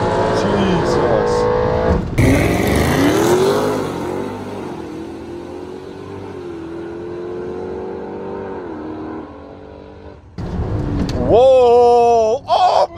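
Modified 2018 Audi RS7 on flex fuel launching in a drag race: a loud engine roar at the start sweeps down and fades into a distant drone, then a sharp revving surge returns near the end.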